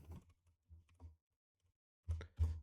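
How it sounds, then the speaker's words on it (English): A password goes in on a computer keyboard as a few soft, close keystroke clicks spaced unevenly, ending with two slightly firmer taps, all quiet and without talk. "So if I type in the password"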